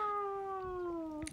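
A cat in the Minecraft video game on a Bendy map gives one drawn-out meow that slides slowly downward in pitch, clear and fairly close, with nothing else around it.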